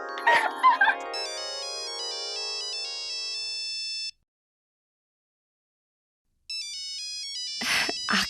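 Phone ringtone playing a bright electronic melody, loud and close, in two bursts separated by a few seconds of silence, with a short voice before the first and another at the end.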